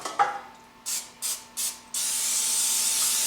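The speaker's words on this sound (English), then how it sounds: "So you have to grease the pan first. So I grease it this way." Cooking spray hisses onto a baking pan being greased for banana nut bread, three short close bursts followed by one long continuous spray, with no talking.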